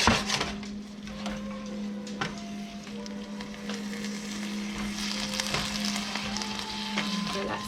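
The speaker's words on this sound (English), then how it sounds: "Sizzle, and that's what you want." Onions for Japanese korokke sizzle and crackle steadily in a hot frying pan, with occasional clicks and a low hum underneath.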